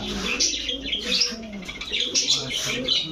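Pigeons of an old Bagha breed at a market stall coo and chirp repeatedly, near and steady, with faint wing flutters and no talk.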